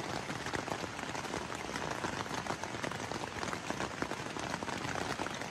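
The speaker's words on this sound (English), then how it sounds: "Now the rains have finally come. We're tucked away in the tent." Rain falling on a tent at a campsite in Upper Michigan's Sturgeon River Gorge, a dense, steady patter of drops close overhead that runs unbroken throughout, with no talking.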